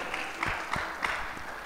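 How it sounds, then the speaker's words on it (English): Sparse, scattered hand claps from a church congregation at a Christmas cantata, a few distinct claps landing loosely apart and fairly soft against a quiet room. "You need to give a good hand clap for Jesus too"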